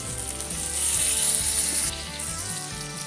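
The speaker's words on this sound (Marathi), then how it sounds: "आता आपली मच्छी चांगली फ्राय झालेली आहे आणि ही आता आपण परतून घेणार आहोत।" Kokari fish frying in oil in a pan over a low gas flame, a steady, dense sizzle with crackling that swells louder for a while and then eases back slightly, with no talking.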